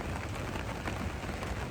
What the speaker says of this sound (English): just waiting for that rain to ease off now